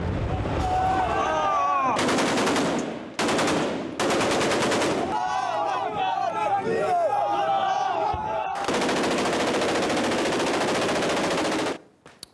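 Heavy gunfire rings out between armed militia gangs in Libya, with bursts of automatic weapon fire and loud shots in long, dense volleys, broken by brief pauses and shouting crowds.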